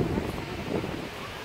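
Strong wind buffets the microphone outdoors during a road trip, a loud rumbling roar with gusty surges throughout the short stretch and faint voices underneath.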